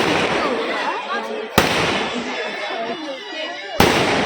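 Fireworks bursting at a wedding reception in Baruipur: a dense, crackling barrage with whistling streaks and two sharp loud bangs, close by, while people talk underneath.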